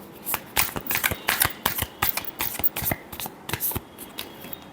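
A deck of tarot cards shuffled by hand, close and crisp, with a quick run of papery riffling slaps in a steady rhythm.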